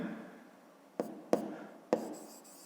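Writing by hand during a fifth-grade maths exercise, with three crisp taps of the pen on the surface, each followed by short scratchy strokes, close and unaccompanied.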